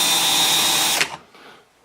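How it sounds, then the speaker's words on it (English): Power drill boring holes through an aircraft instrument panel being refurbished for a Piper Super Cub widebody, a steady loud whine for about a second that then cuts off and winds down into quiet. "So all my holes are spotted, and I can go ahead and drill those out now"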